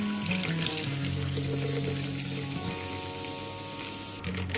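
Soda poured over ice into a masala jeera drink, a steady fizzing, trickling pour lasting several seconds, close and continuous with no talking.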